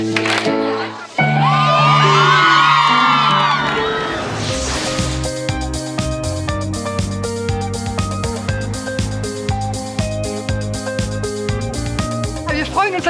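Young people shouting and cheering at a school development-policy competition award ceremony, a loud crowd roar with whoops at first, then giving way to music with rhythmic beats.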